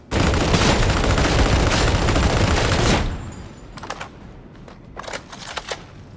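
Gunfire in the video game Darktide: a dense, loud volley of rapid shots for about three seconds, then a few scattered, separate bursts over a quieter background.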